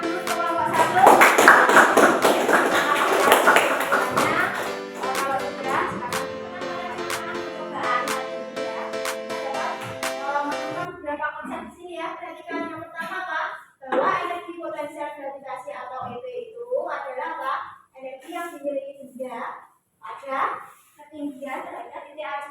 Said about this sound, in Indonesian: Kita beri tepuk tangan dulu untuk kelompok 1